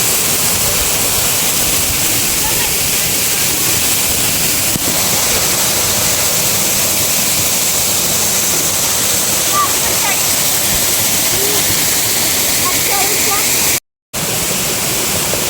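A forest waterfall roars loudly and close, a dense, steady rush of falling water that fills the whole clip without letup, apart from one brief dropout near the end.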